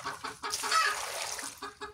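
Two chickens near their coop cluck in short, repeated bursts, close and fairly loud, with a brief busier flurry in the middle.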